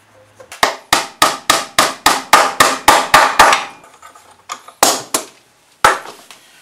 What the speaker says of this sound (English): we need to clamp these sides as we nail them